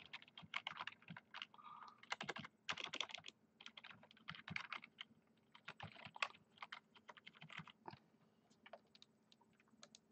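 Rapid typing on a computer keyboard, bursts of close, crisp key clicks with short pauses between runs, quiet and alone without any voice.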